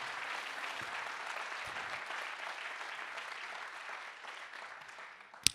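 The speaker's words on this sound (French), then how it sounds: "on applaudit encore nos startups" Steady applause from an audience at a business awards ceremony honouring startups, sustained clapping at moderate level that tapers slightly before a brief sharp knock at the end.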